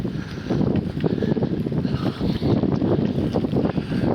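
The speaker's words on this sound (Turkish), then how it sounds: "Rüzgar çok yoğun burada" Strong seaside wind gusts down Rüzgar Street in Şarköy in November, buffeting the microphone in a rough, uneven roar that rises and falls without pause.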